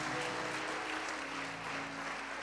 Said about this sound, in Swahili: Tapia Yesu makofi